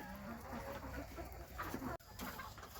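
Several layer hens cluck nearby in short, irregular bursts over a busy background of farmyard noise.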